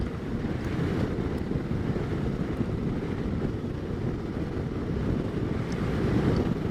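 Heavy wind buffeting a rider on a Suzuki V-Strom 650 motorcycle on a long desert track, a loud, steady roaring rush that fills the whole clip with no pauses.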